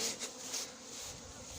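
Honey bees from a small swarm buzzing around a hive box during hiving, a close, dense buzz that swells and fades slightly as individual bees pass near.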